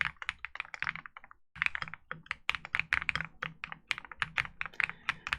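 Steady, fast typing on a mechanical computer keyboard with a slightly higher-pitched, creamy sound: dense clacking keystrokes, close and moderately quiet, with one brief lull early on.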